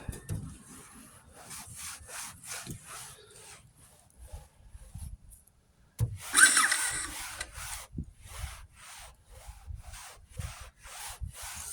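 Repeated rhythmic rubbing of a clay mitt across the paint of a VW Beetle, soft swishing strokes that pause briefly midway, then resume slightly louder and grittier over contaminated paint.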